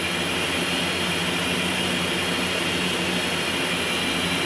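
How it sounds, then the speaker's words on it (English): A plane in Grand Theft Auto San Andreas roars with a loud, constant broadband engine and wind noise, flying fast without a break. "Because this plane is going fast."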